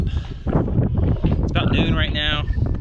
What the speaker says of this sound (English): it's a super windy day, which you guys will probably hear